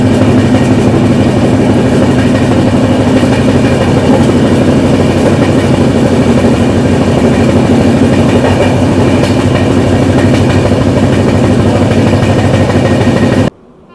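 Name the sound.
Humsafar Express train departing Tundla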